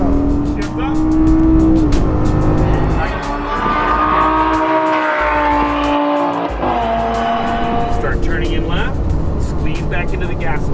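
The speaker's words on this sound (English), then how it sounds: "Now squeeze back into the gas. Unwind your wheel. And let it rip." A car accelerates hard on a driving course, the engine roaring loud and continuous throughout while an instructor talks over it.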